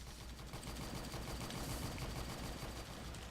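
Gunfire in the mech strategy game AirMech keeps up as a steady, fairly faint stream of rapid shots with no pause.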